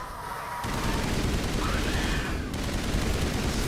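Continuous burst of gunfire in a Mass Effect battle, steady and loud throughout, with sustained automatic shots layered over game ambience.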